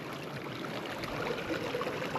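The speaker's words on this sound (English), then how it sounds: "I'm actually going to squeeze the water" Water rushing in a steady close stream, squeezed by hand from a bag through a pre-filter in the backcountry, a continuous wet hiss with slight swells and no voices.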